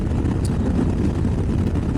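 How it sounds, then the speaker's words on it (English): Wind buffeting along Highway 395 in the Owens Valley during a ride on a Can-Am Spyder F3-T, a loud, steady low roar of wind noise over the microphone, mixed with road rumble. "It's not always windy through this corridor, this part of the 395,"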